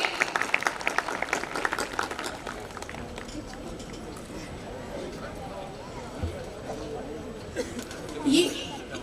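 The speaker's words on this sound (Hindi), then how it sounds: "तालियां हो जाए इन सभी के प्रयासों के लिए" An audience claps for students at a residential school's annual function in Jabalpur. A burst of dense clapping is loudest at the start and thins out, with a voice speaking over it.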